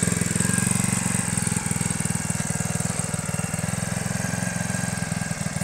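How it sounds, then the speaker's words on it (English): A small 2-horsepower engine on a homemade cooler scooter runs steadily at close range, a rapid pulsing putter with a buzzing edge and no talking. "2-horsepower engine."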